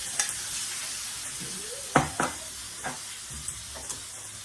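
Pork drops into a pan of golden browned onion and garlic for dinuguan, a steady close sizzle punctuated by a sharp splash and several scattered clinks and scrapes of stirring, no speech.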